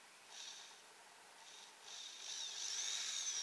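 A 2.5 mm woodworking drill bit being pressed into wood while spinning, a quiet high whirring that swells and grows steadier toward the end, with no talk.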